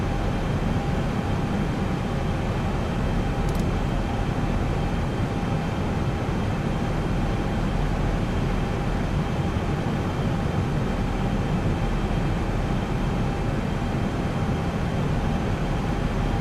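Boeing 737 (Zibo mod) engines in X-Plane 11 on a localizer approach into Innsbruck from Munich produce a steady, unbroken cabin drone at constant loudness throughout, with no talk.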